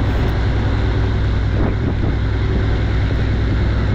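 Ferry boat crossing in Goa during the monsoon: a steady, loud wash of engine rumble, wind buffeting and water noise continues throughout with no speech.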